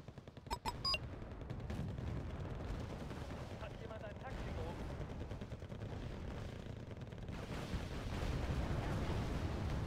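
MLRS rocket artillery fires in Wargame: Red Dragon, a video game, with a few sharp cracks at the start, then a dense, continuous roar of launches and distant explosions that swells toward the end.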